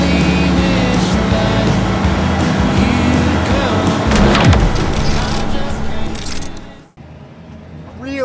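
A 2001 Ford F250 with a 7.3 Power Stroke turbo diesel and 67,000 miles drones loudly on a test drive, its engine rumbling steadily before a brief cut near the end.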